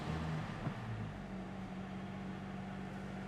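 A BMW M340i's B58 engine ticks over at idle after being warmed up, giving a steady low burble with a faint blip near the start, held at a constant moderate level throughout.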